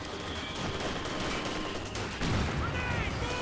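Gunfire in Company of Heroes 2, dense crackling small-arms and machine-gun bursts rattling continuously under a steady battle din, with a louder volley near the end.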